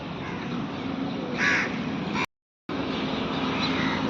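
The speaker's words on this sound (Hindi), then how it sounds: "नमकीन को कितने कौवे मजे ले ले खा रहे हैं" Several crows caw in the open while feeding on salty snacks put out for birds, one louder caw standing out over steady outdoor background noise, with a brief dropout midway.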